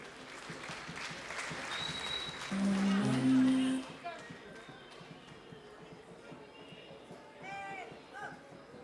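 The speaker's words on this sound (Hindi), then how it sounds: "जोरदार तालियों के साथ बधाई देते हैं" Audience applause at a ceremony honouring a first lady Shankaracharya in Mauritius, a broad steady wash of clapping that swells louder midway, with a voice speaking over it.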